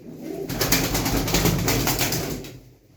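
Breeding pigeons in a loft coo in a low continuous rolling murmur, close and fairly loud, swelling and then fading over a few seconds.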